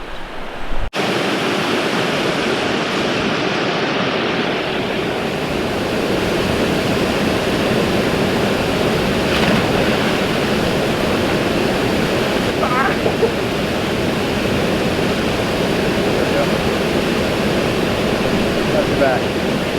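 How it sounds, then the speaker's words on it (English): The Upper Falls of the Montreal River near Lake Superior pour with a loud, steady, continuous roar of rushing water that stays constant and close from start to finish. "we're almost at the Upper Falls of the Montreal River."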